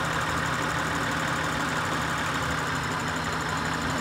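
An Acura TL engine idles steadily with a P0300 random multiple misfire during a cylinder test, a continuous close-up mechanical hum with a low drone and faint uneven roughness, no voices.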